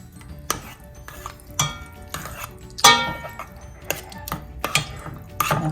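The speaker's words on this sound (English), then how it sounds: "Give it a good mix" Cool, thick cranberry sauce with orange zest being mixed in a bowl, with intermittent close clinks and scrapes of a utensil against the dish, no voices.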